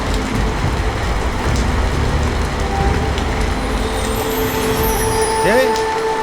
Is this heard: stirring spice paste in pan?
no